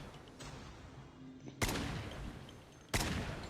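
Two loud, close SKS rifle shots in a video game, each a sharp blast with a lingering tail, preceded by quieter game noise.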